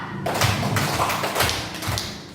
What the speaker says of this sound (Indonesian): Bertepuk tangan satu, bertepuk tangan empat,